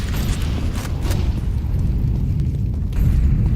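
Heavy low boom of a grenade blast in an esports shooter match, a broad rumbling burst with a dense low-end rumble sustained throughout.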